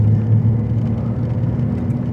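Nissan Altima driving after a DIY wheel alignment, heard from inside as a loud, steady low engine and road rumble with a constant hum and no voices.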